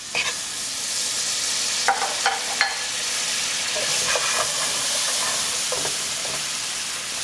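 Butter sizzles and fries in a hot pan for turkey gravy, giving a loud, steady hiss across the whole stretch with a few stirring scrapes and pops near the front.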